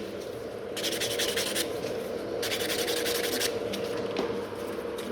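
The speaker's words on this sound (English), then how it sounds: "So I'm using the white buffer first. Just go over like nice and fast" A white buffer is rubbed quickly over gel nails, producing close, steady bursts of dry scratchy buffing in several fast runs against a soft background hum.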